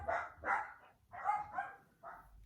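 Neighbours' dogs barking from nearby yards, five loud barks in two quick pairs and a final single, somewhat distant and alone without talk.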